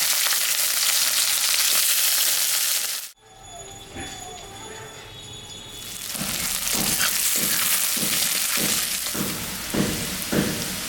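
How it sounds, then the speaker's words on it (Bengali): Onions and green chillies fry in oil tempered with panch phoron, a loud, dense sizzle that cuts out briefly, then builds back with rhythmic stirring scrapes. "একটু পাঁচফোড়ন সম্বরা দিচ্ছি পেঁয়াজটা আমি দিয়ে দিলাম কয়েকটা কাঁচা লঙ্কাও দিয়ে দিলাম"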